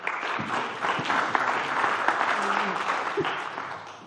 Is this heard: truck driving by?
no